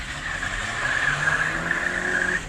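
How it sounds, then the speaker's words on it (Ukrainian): Citroën C3 hatchback accelerating hard with the throttle floored on a straight, a steady, loud engine roar that builds slightly as it pulls, heard close from inside the car. "І нажимаємо газ в пол"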